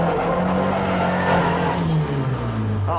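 A rally car braking hard into a hairpin, tyres skidding and squealing over a droning engine that drops in pitch, loud and close throughout.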